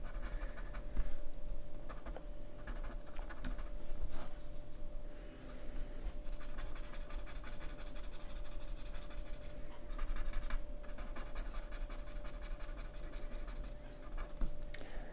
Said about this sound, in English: pressing it in to start with in little circles, and then just tickling it and encouraging it up into the whiter spaces in a lighter layer of graphite.